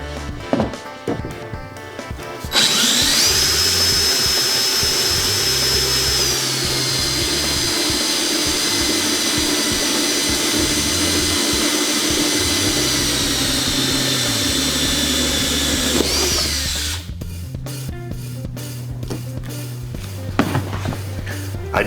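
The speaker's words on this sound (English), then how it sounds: "Then I start drilling my holes." A power drill bores a 1/4-inch hole through a boat's hull or deck, a loud steady whine running for about fifteen seconds before stopping, with handling clatter before and after.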